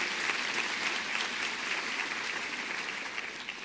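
An audience applauds at a school's back to school event, a dense, even roar of many hands clapping that carries on steadily and eases slightly near the end.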